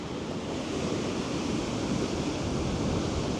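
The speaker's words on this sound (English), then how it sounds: "It's really windy." Strong wind roars without a break at a viewpoint on Fuerteventura, buffeting the microphone in a dense, even rush of noise.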